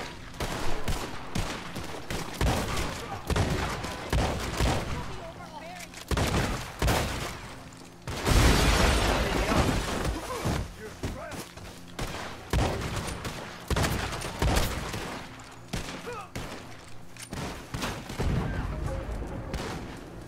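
Gunfire in the western video game Red Dead Redemption: repeated loud shots and bursts of firing spread throughout, close and sharp, with occasional booming reports and little talk.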